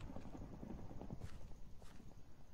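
Horse hooves clip-clop in a Hunger Games–style video game, a steady run of soft thuds over a continuous game background, with one or two brief brighter clatters.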